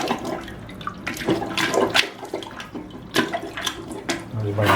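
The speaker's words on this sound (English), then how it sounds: "using the plunger, I'll get rid of as much water as I can" Sloshing, gurgling water pushed repeatedly in a toilet bowl by a plunger, rhythmic splashy surges up close with no talking; a slow-flushing, clogging toilet.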